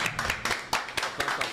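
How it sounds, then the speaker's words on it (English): Scattered hand claps from a small audience cheering for chef Bamendjou, a handful of sharp claps spaced irregularly over a second and a half, fairly close, with faint murmuring underneath. "on applaudit pour le chef Bamendjou quand même"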